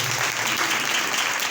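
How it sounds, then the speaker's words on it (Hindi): A church congregation claps loudly and steadily in dense, continuous applause filling the room throughout. "हालेलुया, जोरदार तालियां खुदावंद के लिए।"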